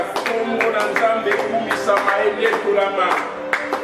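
Congregation at a French-language church seminar service clapping in rhythmic bursts with cheering voices, a dense, lively crowd sound throughout.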